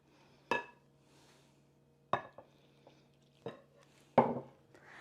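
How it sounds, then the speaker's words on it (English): A spoon knocks against a bowl while Yorkshire parkin cake batter is mixed, giving four sharp, separate clinks with quiet scraping between them. Nobody speaks. "I'm going to mix this up to begin with, and then we're going to add the milk"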